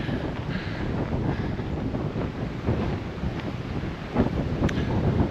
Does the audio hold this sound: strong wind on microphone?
yes